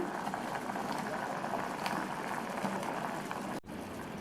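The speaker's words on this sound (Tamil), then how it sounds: "இப்போ நல்லா கொதிக்குது." Milk boils in a pan while making paal kozhukattai, a steady close-up bubbling and hissing that runs without a break, with one brief dip near the end.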